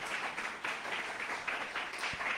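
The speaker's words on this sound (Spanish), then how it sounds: "¿Cuántos dan aplausos al Rey de la Gloria?" A church congregation applauds during a sermon, steady clapping at a moderate distance that fills the short stretch without any speech over it.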